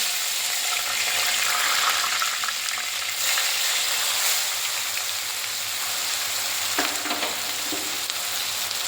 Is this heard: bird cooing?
no